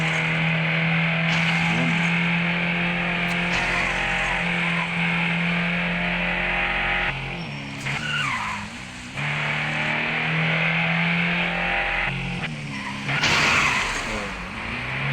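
A car in the driving game Drive Zone: Germany revs and skids, with sustained tire squeals and engine whine rising and falling across several slides, loud and continuous.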